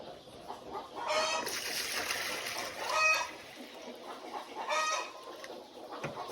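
Chicks clucking and cheeping in a brooder, with several bursts of bird calls rising and falling over steady low background noise, no voices.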